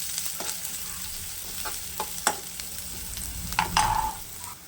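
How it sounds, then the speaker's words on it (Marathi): Finely chopped tomato and onion sauté in oil, a soft steady sizzle under scattered spoon scrapes and taps against the pan, with a brief louder stirring burst near the end and no talking. "त्यानंतर बारीक चिरलेला टोमॅटो मऊ होईपर्यंत परतवून घ्यायचा।"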